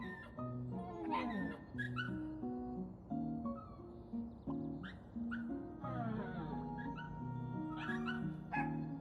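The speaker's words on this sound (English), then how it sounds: "That's a cute puppy." A puppy in a video game gives a string of high, wavering whimpers and little yips, repeating steadily over soft game music.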